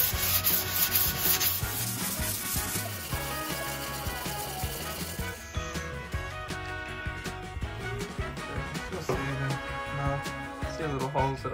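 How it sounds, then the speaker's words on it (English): Sanding filled nail and screw holes in pine wood on overhead cabinets in a Mitsubishi Rosa bus build, a close, steady back-and-forth rubbing scrape that repeats in quick strokes for the whole stretch. "we'll just let them dry and then sand them back"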